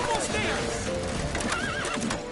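Horse neighing and whinnying in The Witcher 3, a loud, wavering whinny with clip-clop hooves, mixed with game voices and music in a busy chase scene.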